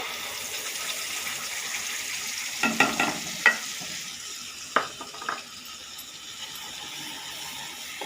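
A paste of ground sesame, mustard and poppy seeds with turmeric sizzles steadily in a pan, a low continuous frying hiss broken by a few sharp scraping clicks of a spatula near the middle.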